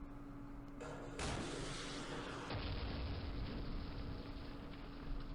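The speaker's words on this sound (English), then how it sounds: "We have another missile." Missile launch in the Campaign Series Middle East wargame against Merkava tanks, a sudden loud whooshing roar that sharpens after a second and then settles into a sustained rushing rumble, alone without talk.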